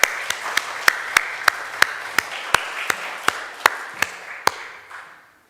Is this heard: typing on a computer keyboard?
no